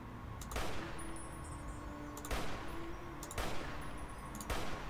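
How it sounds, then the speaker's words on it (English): Sniper rifle shots in the video game Fallout (A Tale of Two Wastelands), four sharp evenly spaced cracks with short decays over a dense, constant game ambience. "Guess I can use the sniper rifle."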